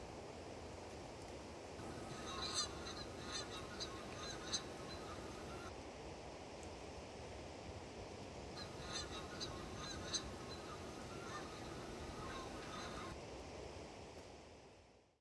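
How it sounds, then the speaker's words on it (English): Canada geese honk repeatedly in bursts over a steady wash of wind or surf, the calls sounding moderately distant. "There's a lot of Canada geese and a few other ducks there as well."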